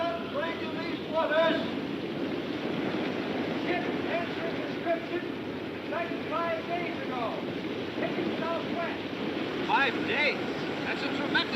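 Wind at sea aboard a sailing ship in a 1952 mutiny film: a steady broadband roar of wind and surf runs throughout, with voices and faint music-like tones over it.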